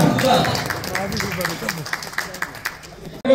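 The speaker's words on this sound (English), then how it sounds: "Round of applause for Sudan." A crowd at an outdoor gathering in Saudi Arabia claps in a loose, fairly regular rhythm for Sudanese attendees, with voices talking and calling out over the clapping.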